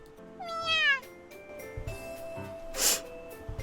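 A kitten gives one clear, high, rising-and-falling meow near the start, followed by quieter snuffling and a short sneeze-like burst, with no one speaking.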